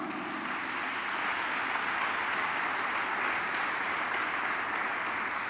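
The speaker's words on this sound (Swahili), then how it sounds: "Simameni wote na wasalimieni wazee hao kwa makofi mengi sana sana." Sustained applause from a youth audience saluting the high table at a formal address, a dense, steady wash of clapping that holds at an even level throughout with no voices over it.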